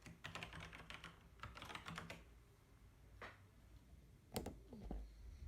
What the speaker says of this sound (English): type in my password right here